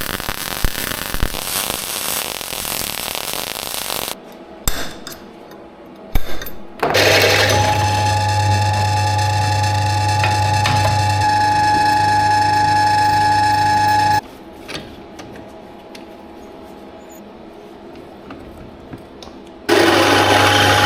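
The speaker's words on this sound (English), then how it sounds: "And stick a lump of welding on." A welding bead is laid onto galvanized steel legs that have been ground back for a milking parlour upgrade. Loud, close crackling hiss comes in bursts, with a steady electrical hum during the longest weld, broken by short quiet pauses.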